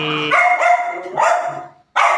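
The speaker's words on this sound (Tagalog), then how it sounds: "Mga pasawayan mga aso ko eh." Several pet dogs bark close by in quick, loud yaps, a rapid cluster followed by a short pause and one more burst.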